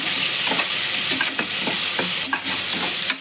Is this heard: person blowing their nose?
no